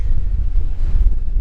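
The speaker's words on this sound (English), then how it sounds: "Oh, she's windy." Low, rumbling buffeting of wind hitting the microphone on a farm during bean harvest, continuous and loud with no other sounds standing out.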